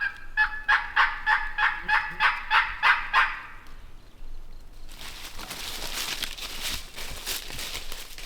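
A wild turkey gobbles in a rapid rattling burst of about a dozen pulses at moderate distance, followed by quiet outdoor rustling and hiss with no talk.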